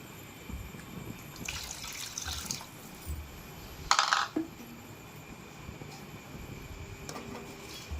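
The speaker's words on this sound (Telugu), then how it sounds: "ఈ కప్పుతో ఒక రెండు కప్పులకి నీళ్లు పోసేసుకుందాం" Water pours and splashes into a simmering pot of meal maker and tomato curry, with a short, sharper burst of liquid midway; no one speaks.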